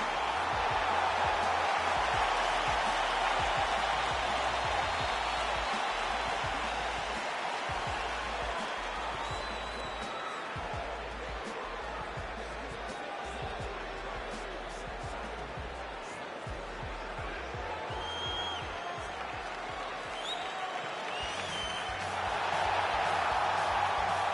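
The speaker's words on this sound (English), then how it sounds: "the crowd pops as this guy makes the walk to the octagon" Dense virtual arena crowd roaring steadily as a fighter makes his walk to the octagon in EA UFC 3, a continuous loud wash of cheering with scattered thumps and swells, alone with no talk.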